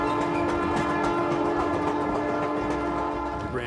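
A Grand Canyon Railway train rumbles loudly and continuously nearby, a dense rolling roar with a steady horn-like tone held throughout.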